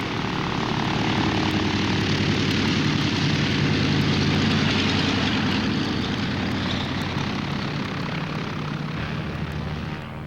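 A 1951 United Airlines mainliner's engines drone loudly and continuously at departure, a steady rumbling roar with a tonal hum that holds throughout.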